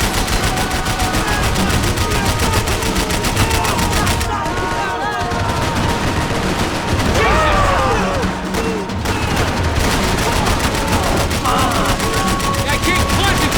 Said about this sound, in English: Bullets whizzing past my head!